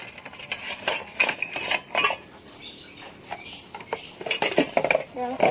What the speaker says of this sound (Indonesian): lalu kita masukkan alat-alat yang sudah direbus dan dikukus tadi ke dalam air klorin